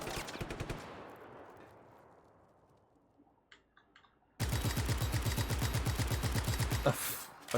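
Gunfire in the video game Just Cause 3 comes as a rapid automatic burst, then a quiet gap with a few faint pops, then a sustained loud stream of automatic fire under brief talk.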